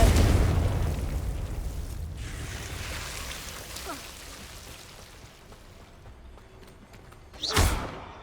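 A fiery blast from the Confringo spell in Hogwarts Legacy lands as a rumbling, crackling burst that decays slowly, with a sharper whooshing hit arriving near the end.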